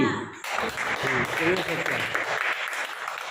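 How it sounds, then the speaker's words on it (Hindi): A group of schoolchildren claps together at a village school admission celebration in Nayagaon, Tikamgarh, with a burst of brisk, sustained applause and voices mixed in. "अच्छा, बजाओ ताली।"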